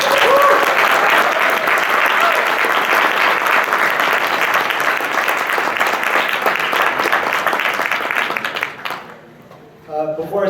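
Loud, sustained audience applause welcoming a speaker to the stage at a physical therapy presentation, dense clapping that fades out near the end before a voice starts.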